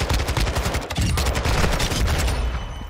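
Rapid automatic gunfire from a Kastov 74u in a Call of Duty: Modern Warfare 2 multiplayer match, a loud, dense stream of close shots with incoming fire mixed in and little break.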